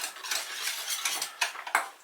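A utensil stirs grated cheddar into a thick cheese sauce in a pan, making close clinks and scrapes in an uneven rhythm with a few sharper knocks near the end and no talk.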